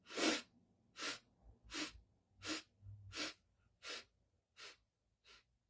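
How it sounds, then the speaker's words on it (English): Eight separate short breaths drawn in one after another at an even, slow pace during a segmented breathwork exercise, each a soft airy burst close to the microphone with quiet pauses between, no talking. "we're going to inhale 8 parts, 8 segmented parts"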